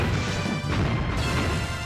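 A giant pipe smashing robots in Mystical Ninja Goemon, loud crashing whacks that come in quick succession over a busy game backdrop, with no voices.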